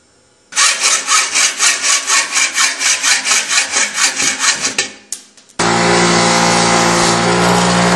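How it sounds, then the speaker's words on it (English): A steel brake line is sawn by hand, about twenty rapid loud rhythmic back-and-forth strokes close by, ending in a short clatter, followed by a steady loud rushing noise. "And we cut the brake line off here"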